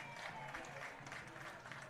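A Pine Belt baseball crowd cheers and claps after a ball-four call at a Mississippi vs Louisiana game, a steady, fairly faint wash of distant applause and crowd noise lasting throughout.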